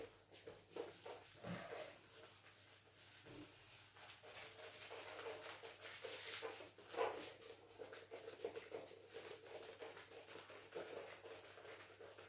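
A board in a lecture room being rubbed clean, with faint, repeated scraping strokes that are steady and low in level, and no talk over them.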